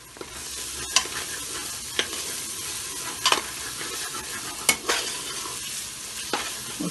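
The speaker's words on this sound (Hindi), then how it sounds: "थोड़ा सा इसको भूनेंगे" Masala and meat stir-fried in a pot, with a soft continuous sizzle and a handful of sharp scrapes and clinks from a spoon against the metal, close up and heard alone.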